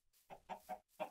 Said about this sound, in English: That's just a little array of chickens down there.